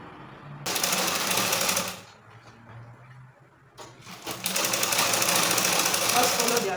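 Two loud, close bursts of a sewing machine stitching a trouser seam along the allowance, a fast rattling run, a quiet gap with low sounds, then a longer steady run.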